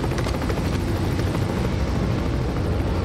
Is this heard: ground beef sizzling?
no